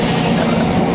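Steady, continuous rumble of a moving train heard from inside a carriage, with a dense low hum and faint rolling wheel noise throughout, close and even, with no talking.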